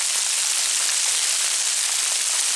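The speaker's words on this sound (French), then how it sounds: "Eh ben non, c'est de la grêle." Hail falls on the ground outdoors with a steady, dense hiss of small pellets striking the surface. The sound stays even and continuous, close by, with no talking.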